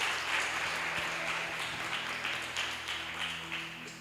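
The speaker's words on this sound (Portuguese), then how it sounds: "Uma salva de palmas para Jesus, que Ele merece" Congregation applauding for Jesus at a church service, a steady wash of clapping from a crowd that stays fairly even for a few seconds, with no talking over it.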